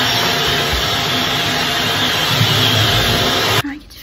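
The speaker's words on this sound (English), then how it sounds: "I get to vacuum the rest of the house." A vacuum cleaner roars loudly and steadily up close, then shuts off near the end, its hum winding down.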